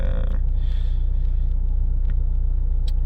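An FSO Polonez engine idles while warming up, giving a steady low rumble that runs close and continuous, with no talk.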